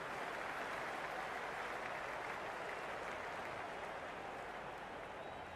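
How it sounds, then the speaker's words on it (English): Spectators at a ground applaud and cheer in a continuous, even roar, a faint distant crowd wash that holds steady throughout with no voice on top. "The spectators are absolutely buzzing right now."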